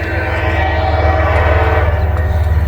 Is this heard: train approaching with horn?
yes